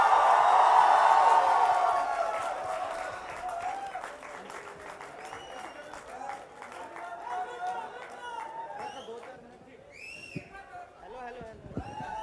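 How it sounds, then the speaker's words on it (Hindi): Loud audience applause fills a stand-up comedy event in Sarojini Nagar as comedian Akash Gupta is welcomed to the stage, a dense clapping wash that gradually thins, with crowd chatter and a few whoops rising near the end. "अब उससे भी जोरदार तालियों से मंच पर स्वागत करिए"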